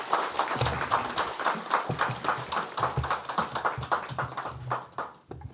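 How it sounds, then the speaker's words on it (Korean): Congregation applauding the choir after an Easter cantata in a church, a dense, steady clapping of many hands that fades toward the end, with no talk over it. "우리 하나님께 영광의 박수를 올리겠습니다"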